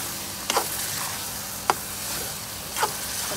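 Onions and vegetables sautéing in oil in a pan for Tamil-style mushroom gravy, a steady soft sizzle with three brief clicks of a spoon stirring against the pan.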